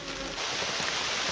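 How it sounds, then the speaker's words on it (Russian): A soft, even hiss of light rain, steady and fairly faint, with no distinct drops or voices standing out. "опять дождь начинается"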